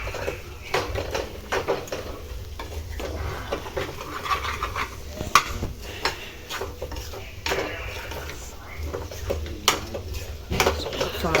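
Chicken frying in a pan with ground spice powder, with a steady sizzle and clattering of a utensil stirring against the pan throughout.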